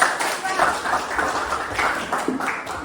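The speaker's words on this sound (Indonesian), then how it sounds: "Tepuk tangan dulu dong" An audience claps briefly for a group after its presentation in a school coaching session, a scattered, uneven patter of hands in a room, with a voice talking over it.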